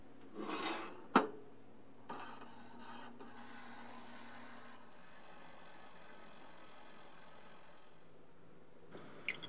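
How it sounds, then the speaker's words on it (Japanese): A hand file scraped across the hardened steel of a homemade carving knife, in a few short, faint rasping strokes at the start, then mostly a quiet low hum with a light scrape near the end. "試しにちょっとヤスリを当ててみますね。"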